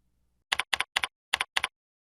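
Five quick keystrokes on a computer keyboard, crisp clicks in a short irregular burst, close and clear against silence, with no talking.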